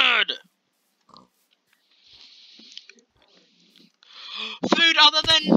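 Minecraft pigs give a few short, scattered oinks and snorts, quiet at first and then louder near the end, separated by stretches of near silence.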